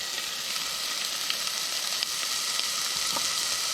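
Chopped onions sizzling and sautéing in a hot oiled pan for a rustic lentil soup, a steady, close crackle with small pops scattered throughout.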